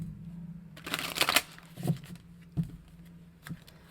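Tarot cards are shuffled close up, a quick riffling burst followed by a few soft slaps and taps of cards, with a low hum underneath.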